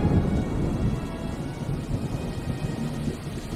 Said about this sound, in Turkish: Yıllardır yağmur yağmayan çölde yağmur yağdı.